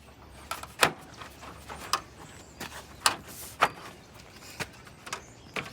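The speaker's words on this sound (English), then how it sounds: "Once things are lined up, start snapping into place." Plastic headlight housing and grille parts on a 2014 Ram 3500 pickup snap into place with a series of sharp clicks and knocks at irregular intervals, close and fairly crisp, with no speech.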